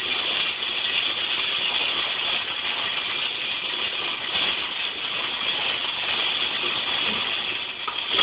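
Coffee beans roast in a popcorn popper with a steady, continuous whirring fan roar, even in level throughout, with no speech.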